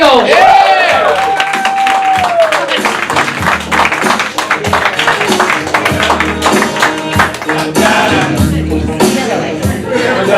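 A studio audience applauding and cheering as a comedy veteran is brought onstage, dense loud clapping throughout with a whoop at the start and crowd noise underneath.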